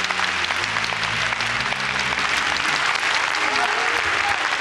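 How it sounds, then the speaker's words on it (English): A large audience at a preaching event claps hands together in sustained, dense applause that stays loud and even throughout, with faint crowd murmur mixed in. "The first sound I want her to hear is all you people clapping your hands."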